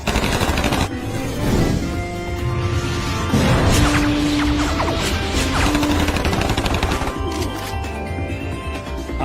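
A barrage of gunfire after a shouted order to fire, loud rapid shots and crashing impacts in a continuous volley, with brief tonal effects in the middle.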